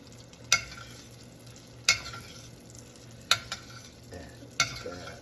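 Butter sizzling in a pan while a chop is basted, a low steady fry broken by four sharp spoon clinks against the pan at regular intervals, close and without talk.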